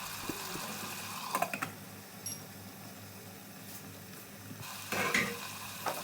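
Chicken with garlic and ginger, seasoned with salt and black pepper, cooks over low heat in a pot, giving a soft, steady sizzle with faint crackles and a few clinks and stirring bumps, close by, with no one speaking.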